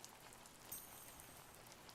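Light, gentle rain falls in The First Tree, a faint, continuous patter of drops on surfaces with one slightly louder tap, calm and unbroken.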